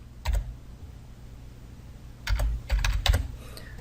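Short bursts of typing on a computer keyboard while entering data into an Excel spreadsheet, a few quick clusters of key clicks separated by pauses, close and clear.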